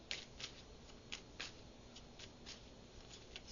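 Tarot cards being shuffled in quick riffling bursts, a series of soft papery flutters repeating every half second or so against faint room hiss, with no one speaking.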